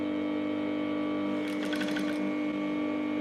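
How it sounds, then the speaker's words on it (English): A domestic sewing machine stitching fabric for a pencil balloon sleeve, a steady mechanical hum throughout with a brief burst of rapid stitching clatter midway, close and moderately loud. "So I've turned on my machine, so we're going to start stitching."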